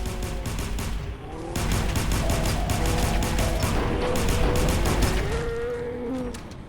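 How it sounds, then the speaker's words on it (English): An automatic laser pistol firing in Fallout 4 during a fight against the Mechanist's robots, a fast steady stream of sharp zapping shots that continues loudly from start to finish, with electronic whines and game effects layered beneath. "Oh my god, automatic laser pistol to the rescue."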